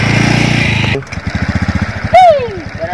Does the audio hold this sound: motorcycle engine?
yes